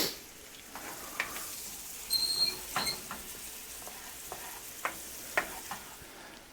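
Home fries frying gently in butter in a pan over low heat, a soft steady sizzle with scattered pops and crackles and a brief stirring scrape.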